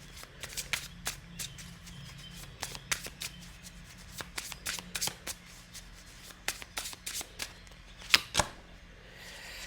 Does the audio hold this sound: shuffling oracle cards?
yes